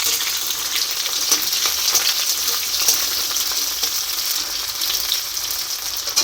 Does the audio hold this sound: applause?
no